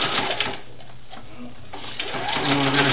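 A serger sewing machine runs steadily while stitching a doll dress for a Vanessa Valentine doll, a close, continuous rapid mechanical whir that eases briefly in the middle and then speeds up again.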